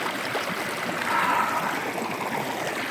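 A creek in a Utah canyon on the Boulder Mail Trail flows steadily nearby, a continuous rushing babble of water with no voices.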